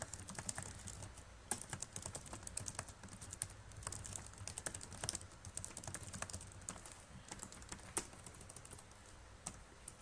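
Steady, rapid clicking of keys on a computer keyboard while composing a WordPress blog post, continuous close-up typing with no voices.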